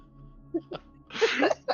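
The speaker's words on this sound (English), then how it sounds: "It was a sneeze." A single sneeze bursts out loudly during a live tabletop fantasy roleplaying game session, following a couple of brief vocal sounds, with quiet room tone around it.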